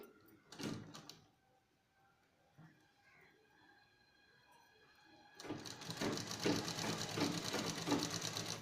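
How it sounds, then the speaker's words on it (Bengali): A sewing machine stitches a tie-string frock, starting after a stretch of quiet handling and small clicks, then running steadily and fairly close for the last few seconds. "একটু ভালো করে লক্ষ্য করো মেশিনের দিকে এইভাবে হাতে যদি করো এটা ভেতর দিকে রেখে দিবে দিয়ে এইভাবে সেলাই করতে হবে"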